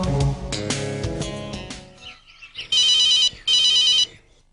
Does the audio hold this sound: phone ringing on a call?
yes